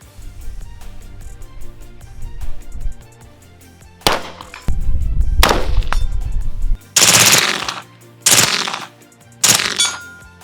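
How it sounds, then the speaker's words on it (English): A suppressed rifle firing 7.62x39 rounds through a DuraMag suppressor lets off several loud, close bursts of rapid shots from about four seconds on, separated by short pauses, after a quieter stretch of handling noise. "Never shot this gun before, so let's try it."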